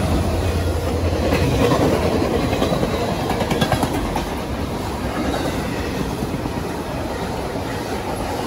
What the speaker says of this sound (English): this is NS309 passing W09